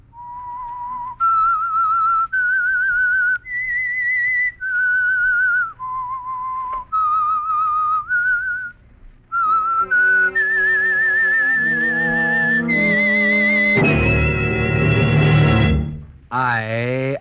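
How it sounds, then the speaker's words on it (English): A whistled theme signal opens an old radio mystery program, a clear solo melody of held, stepping notes that then blends into a full orchestral swell near the end. "That whistle is your signal for the Signal Oil Program,"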